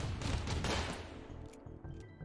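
Turret gunfire in the Rimworld video game, shooting at cloth dummies: a dense burst of rapid shots up front that thins into a steady run of quieter, evenly spaced reports, with no talk.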